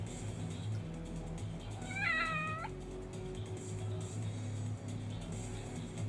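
A single drawn-out meow from a cat in the video game Lost Judgment, close and clear, rising over a steady low hum of game ambience.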